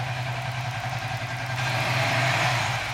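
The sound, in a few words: Suzuki FU 150 FI motorcycle engine with GSX injector, mid RPM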